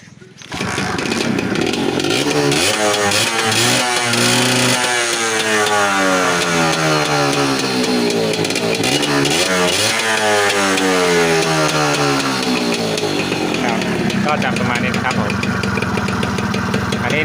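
A motorcycle engine with a freshly cleaned carburetor runs loud and close, revving up and down in a buzzy, rasping drone that fills the whole stretch.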